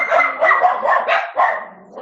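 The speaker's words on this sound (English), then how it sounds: "Sorry about my dogs." Pet dogs bark in a quick, close series of sharp yips and bow-wows, loud and alone, tailing off into a softer whine.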